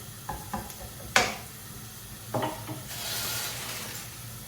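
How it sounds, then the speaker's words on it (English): A chopped white onion hits hot oil in a pan with a few stirring scrapes, then a steady soft sizzle builds and carries on alone for the last second and a half, close and fairly quiet. "one white onion. Just going to put that into the oil. Let that soften."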